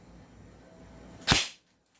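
An airsoft M4A1 Sig Sauer rifle fires a single sharp, close shot after quiet background, then fades quickly to silence.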